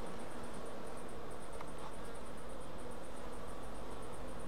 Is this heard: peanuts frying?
no